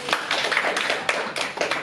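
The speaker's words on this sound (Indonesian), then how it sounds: "Beri tepuk tangan dulu untuk Bagus." Applause from a group, steady clapping filling the room for a couple of seconds with a few louder bursts.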